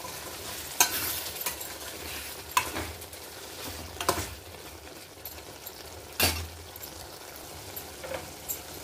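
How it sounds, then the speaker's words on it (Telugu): Cumin and coriander powder being stirred into a gongura meal maker curry, a faint simmering sizzle with occasional sharp spoon knocks against the pot, close and quiet, no talking. "1 స్పూను జీలకర్ర పొడి, ధనియాల పొడి, ఈ రెండు మిక్స్ అయ్యేలాగా కలుపుకుందాం."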